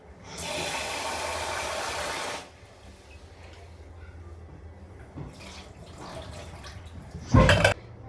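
Tap water runs loudly into a kitchen sink for about two seconds while food is rinsed clean, then stops, leaving quiet kitchen background with a few faint clatters and a sharp knock near the end.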